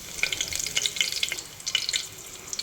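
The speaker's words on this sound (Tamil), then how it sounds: "இப்போது கொஞ்சம் கருவேப்பிலை போட்டுக்கலாம்." Curry leaves hit hot oil already holding cinnamon, cloves and fennel seeds, giving a bright crackling sizzle with rapid pops and spits, close and loud without any voices.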